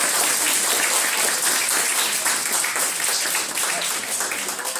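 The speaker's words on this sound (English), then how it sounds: "Let's give him a huge round of applause." A large audience breaks into a huge, dense round of applause for a guest at a talk on understanding credit, steady and loud from start to finish with no voices.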